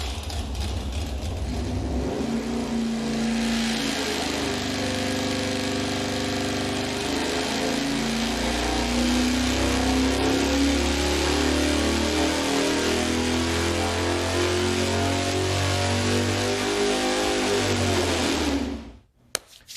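A Ford engine fitted with a conventional electronic ignition control runs on a dyno, a loud, steady mechanical roar with shifting tones as revs change, continuing for most of the clip before shutting off abruptly.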